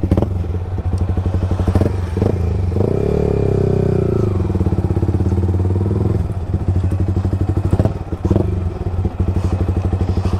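A Yamaha R15M motorcycle with a loud exhaust revs up nearby, its throttle rising and falling over a steady pulsing idle, with a few thumps and clatters and no talking.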